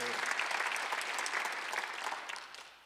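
Church congregation at a Thanksgiving service clapping together, a full even wash of applause from many hands that gradually fades toward the end.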